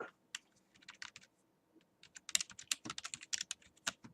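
Typing on a computer keyboard, a close run of light, irregular key clicks with a short pause near the middle before a faster burst of taps resumes.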